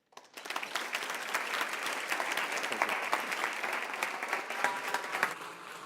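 Sustained audience applause fills a breakfast kickoff event for United Way of the Lower Eastern Shore, starting abruptly and holding steady with dense, even clapping throughout.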